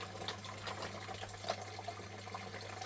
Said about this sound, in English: we're just trying to rinse the gold down